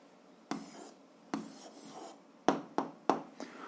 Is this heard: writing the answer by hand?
yes